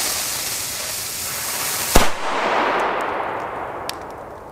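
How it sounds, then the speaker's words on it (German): A Donnerschlag firecracker, set against a cube-shaped Xplode Kanonenschlag, goes off in a single sharp, loud bang after a hissing stretch. A rumbling decay and a small crack follow. "Der Donnerschlag gegen den kubischen Kanonenschlag von Xplode."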